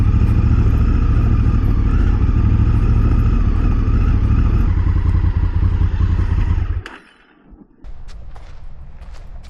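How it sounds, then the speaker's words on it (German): An adventure motorcycle rumbling over cobblestones, its loud engine drone layered with steady jolting clatter from the rough paving, then cutting away abruptly near the end to a quieter outdoor scene. "Im Gegensatz zum Cruiser hat das Adventure Bike auf Kopfsteinpflaster schon Vorteile."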